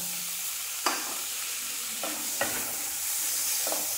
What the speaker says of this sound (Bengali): এখন মশলার সঙ্গে আমি মটরশুঁটিগুলো ভালো করে মিশিয়ে নেব।